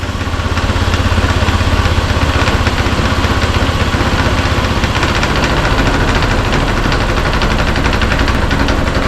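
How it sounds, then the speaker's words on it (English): A Honda Scoopy scooter idles with a noticeable rattle, loud and close, a steady buzzing engine note with fast mechanical clatter running throughout, no voices. "the Honda Scoopy is a fair bit rattly"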